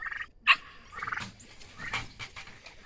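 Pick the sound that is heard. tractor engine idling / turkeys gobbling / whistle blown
turkeys gobbling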